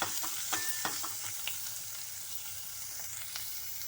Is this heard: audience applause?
no